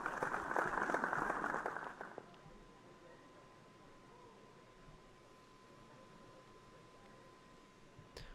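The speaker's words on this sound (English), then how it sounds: "A round of applause for my fellow graduates." A crowd applauds at a graduation ceremony in the video game The Crooked Man, a dense burst of clapping lasting about two seconds before it drops away to a quiet, hissing room tone.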